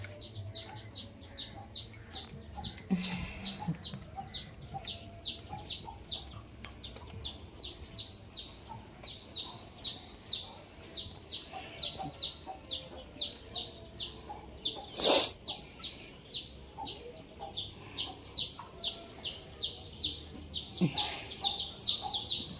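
Chickens clucking and calling in a rhythmic run of short notes throughout, with the patter of rain underneath and one sharp louder burst partway through.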